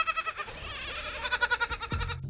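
A goat bleats in a quick series of wavering, buzzy cries, loud and close, followed by a lower grunt at the end, with no talk over it.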